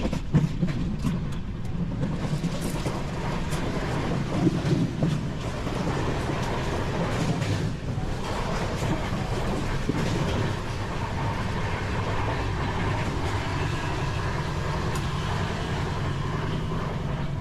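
The Vivek Express rumbles along the tracks near Jolarpettai, Tamil Nadu, with steady clattering and rattling, loud and continuous throughout, with no one speaking.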